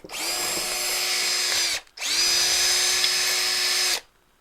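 A power drill drives a bolt on a truck, whining loudly in two sustained bursts separated by a short pause, then cutting off, with no talking.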